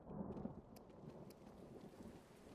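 Stormy night in a Minecraft adventure map: a steady wash of rain and low thunder rumble fills the scene, with a few sharp crackles near the start, continuous and moderately loud throughout.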